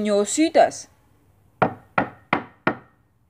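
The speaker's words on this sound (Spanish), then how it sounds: "Toca en la puerta" A voice speaks briefly, then after a short pause four firm knocks land on a wooden door in an even rhythm, close and distinct.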